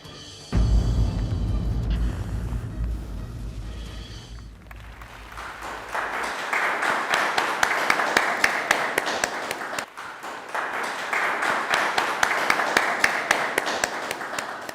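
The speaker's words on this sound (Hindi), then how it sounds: "आपकी तालियों ने साबित कर दिया कि आप लोगों को ये फिल्म कितनी पसंद आई होगी" An audience applauds after a film screening, with steady, dense clapping that starts after a low rumbling passage, dips briefly, then swells again and continues to the end.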